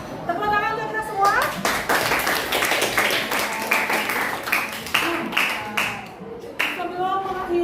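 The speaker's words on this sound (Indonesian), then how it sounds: "Tepuk tangan untuk kita semua." Schoolchildren in a classroom clap in quick, uneven bursts that carry on for several seconds, with children's voices calling out amid the clapping.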